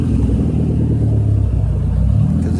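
A Hemi 5.7 V8 engine that seems to be running off revs in a steady, loud, close-up rumble, its deep droning tone rising and falling slightly throughout.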